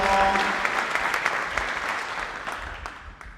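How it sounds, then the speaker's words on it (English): A crowd at a Veterans Day ceremony applauds a man on the lawn, a full round of clapping that swells at first and then gradually thins out and fades. "If you'll join me in giving him a round of applause"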